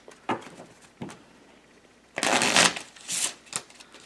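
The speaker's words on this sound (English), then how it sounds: "we shuffle the cards" Playing cards are shuffled: a few quick riffles first, then a longer, louder riffle followed by shorter bursts, close up with no talking.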